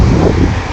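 Strong wind roars at a long beach in Pangasinan, buffeting the microphone in a loud, steady rush over a brief moment. Any sound of waves is buried under the wind.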